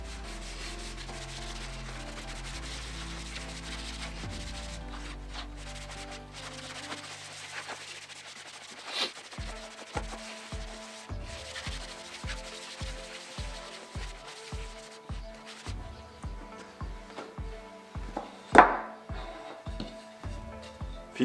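A cloth wipes excess Rubio oil finish off a wooden surface in a run of rhythmic rubbing strokes, each close and soft. The strokes follow several seconds of quieter handling, and no one speaks.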